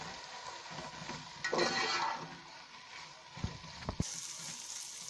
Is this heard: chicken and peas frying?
yes